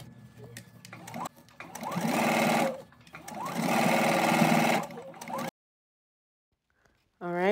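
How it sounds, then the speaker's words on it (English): Sewing machine stitching close to the inner pressed edge of a fabric casing, running in two steady bursts of motor hum and rapid needle chatter separated by a brief pause, then silence before a short voice at the end. "I'm going to stitch close to the inner pressed edge, leaving an opening to insert the elastic."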